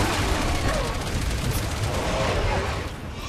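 Sustained loud gunfire and combat noise in Resident Evil 6, a dense, continuous wash of shots and rumble with no clear pauses.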